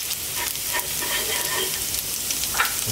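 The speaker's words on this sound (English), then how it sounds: "We're gonna drop in our garlic and ginger. Just give that a few seconds and that will infuse that oil." Garlic and ginger sizzle and crackle in hot oil over maximum heat, a steady bright hiss up close with scattered pops throughout.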